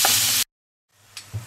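Ground meat for bolognese lasagne browning in a pan: a short burst of loud sizzling that cuts to silence, then returns faintly with a couple of soft spoon taps against the pan.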